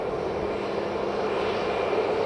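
A WestJet airliner takes off from runway 06 at Edinburgh Airport, its engines giving a steady, loud, broad roar with no talk over it.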